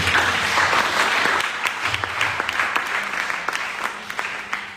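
Church congregation applauding, a dense wash of clapping with scattered sharper individual claps, moderately loud and gradually thinning out.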